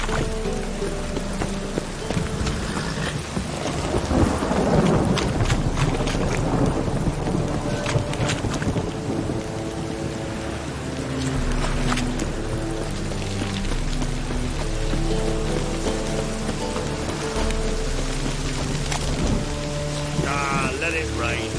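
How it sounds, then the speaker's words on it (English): Continuous rain pattering with rolling rumbles of thunder in The Witcher 3: Wild Hunt video game, accompanied by layered musical tones throughout. "Let it rain."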